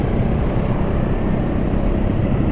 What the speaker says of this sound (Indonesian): masih tetap agak kasar ya suara mesinnya